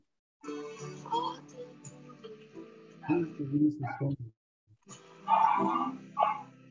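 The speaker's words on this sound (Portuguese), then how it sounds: "Cachorro." Small dog yipping and whimpering in short bursts, moderately close, with gaps of quiet between the outbursts.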